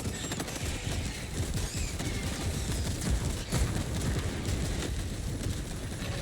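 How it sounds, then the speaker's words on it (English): Rapid, dense volley of automatic gunfire and impacts from an orbital Gatling barrage in Helldivers 2, a continuous loud rattling stream of shots and blasts against bugs. "I'm gonna orbital Gatling. Orbital barrage incoming."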